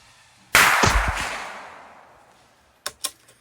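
A single sharp shot from a Cricket rifle firing Eley ammunition at a shooting range, loud and close with a decaying echo, followed by two quick fainter knocks.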